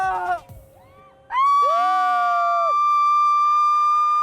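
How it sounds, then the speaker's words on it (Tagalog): Riders on a theme park ride in Sta. Rosa, Laguna scream together, a loud sustained chorus of high-pitched yells and whoops rising suddenly after a quieter moment. "Puro sigaw na lang!"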